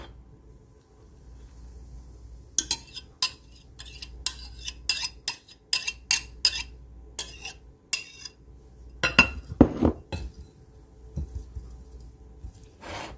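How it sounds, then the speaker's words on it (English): Dough whisk working yeast bloom into flour in a bowl, a run of irregular sharp scrapes and clinks against the bowl with brief pauses, close and fairly quiet, no talk. "all we're going to do is whisk this right into our flour"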